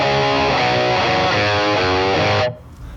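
An electric guitar plays distorted, sustained chords through a BOSS Katana MK2 amp shaped by a graphic EQ, loud and thick, before the notes cut off abruptly near the end.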